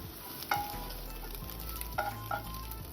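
Beaten egg frying like an omelette in a pan, a quiet continuous sizzle broken by three light spatula taps and scrapes against the metal, no talking.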